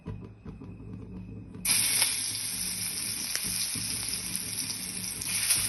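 Brinjal slices, prepared like fish fry, hit hot oil on a tawa with a sudden loud, steady sizzle that rises after a quieter start and carries on without talk.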